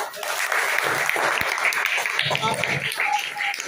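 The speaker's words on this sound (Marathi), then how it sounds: "यांच्या टाळ्या वाजवा जोरात" Applause from a group of schoolchildren for a classmate's drawing at a Saturday school activity, steady clapping throughout with voices talking and calling over it.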